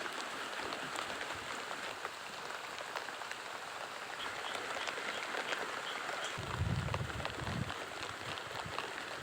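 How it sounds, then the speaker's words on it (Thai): Steady rain falls on a rural farm during flooding in Sakon Nakhon, Thailand, a dense even hiss of drops on surfaces filling the whole span, with a brief low rumble near the end and no voices. "เอ้ยฝนตก"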